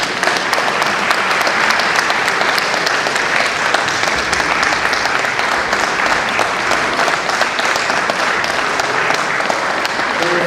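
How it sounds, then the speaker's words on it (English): A large audience at a Nigerian Bar Association Benin branch law week event gives a loud, sustained round of applause, dense clapping running unbroken throughout. "A heavy round of applause."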